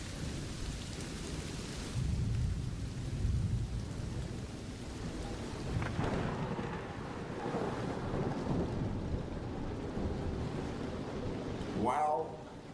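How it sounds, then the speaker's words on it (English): Thunderstorm with steady rain pattering and gusty wind buffeting the microphone, a low rumble of thunder swelling midway and a sharp crack near the end. "Come on, it's just a little rain"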